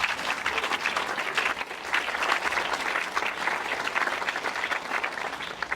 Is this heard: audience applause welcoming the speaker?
yes